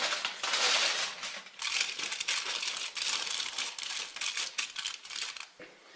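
Tin foil crinkles and rustles on an oven rack while being spread out to dry blueberries for pemmican, a loud, close, continuous crackle that fades at the end.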